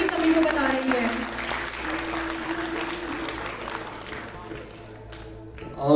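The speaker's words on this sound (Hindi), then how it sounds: "एक बार फिर से जोरदार तालियां।" Audience applause fills the hall at the 5th Haryana International Film Festival at the Multi Art Centre, Kurukshetra: dense, steady clapping from a large crowd, with voices murmuring underneath, tapering slightly toward the end.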